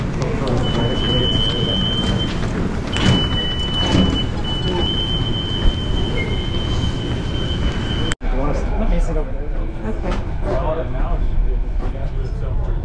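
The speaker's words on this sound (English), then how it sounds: "Driverless subway car here." A driverless subway train in Vancouver rolls along in a steady, loud, close rumble with a sustained high whine. The noise briefly drops out near the end, and voices murmur in the background.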